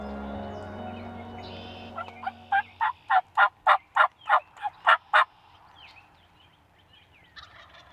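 A wild turkey gobbles in a rapid burst of about a dozen loud, pulsing notes rising and falling close by, set against a low engine-like drone that fades out, followed by quiet outdoor ambience.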